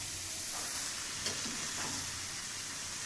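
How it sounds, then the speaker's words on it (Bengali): Rohu fish head frying in a pan with winter vegetables such as cauliflower or cabbage for muri ghonto, giving a steady, close sizzle with soft stirring sounds and no talking. "আমি এক্সট্রা করে শুধু মাছের মাথাটা অ্যাড করছি"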